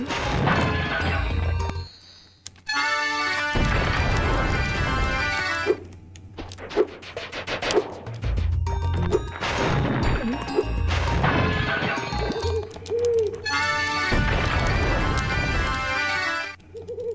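Crates and objects being smashed in the Spyro 2: Ripto's Rage video game, Winter Tundra level, with repeated loud crashing and whacking bursts over game music across the whole stretch, pausing briefly in between.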